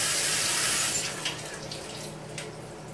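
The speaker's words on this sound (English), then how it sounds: "All right, so let's go rinse this here lettuce off." Romaine lettuce is rinsed under a running kitchen tap, which makes a close, steady gush of water. The flow softens and turns splashier partway through, and no voices are heard.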